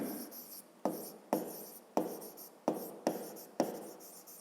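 Pen scratching on paper in short repeated strokes, about seven distinct bursts each starting sharply and trailing off, close and fairly quiet with no talk, as a maths exercise is written out.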